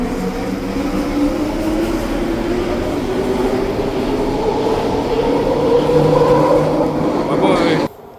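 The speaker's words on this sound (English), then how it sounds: "here goes the SkyTrain, leaving westbound to Waterfront" A SkyTrain pulls away westbound from the platform at Edmonds station, its motor whine rising steadily in pitch over a loud rolling rumble for about eight seconds before the sound drops off sharply.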